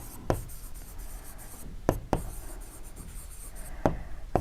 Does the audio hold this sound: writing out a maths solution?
yes